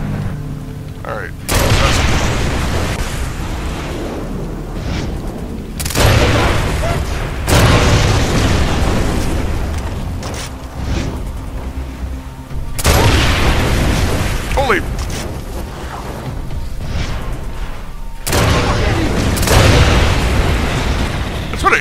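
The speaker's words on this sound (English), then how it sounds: "I never think about shooting the barrels to kill the bad guys." Explosive barrels in Far Cry 3 blow up in a string of loud booming blasts, each a deep broadband burst that decays into rumble, recurring every few seconds under intermittent game sounds.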